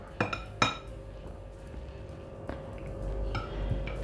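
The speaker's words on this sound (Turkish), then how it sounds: "Çok da patatesleri ezmeden artık karıştırma işlemini de tamamlıyorum." A utensil clinks against a bowl while mint potato salad is mixed: a couple of sharp, bright knocks near the start, then quieter scraping and a few lighter taps, close and clear.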